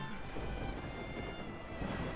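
Steady rain falls in the video game Wuthering Waves, a dense, even hiss of drops that holds constant and fairly soft throughout, with no voices over it.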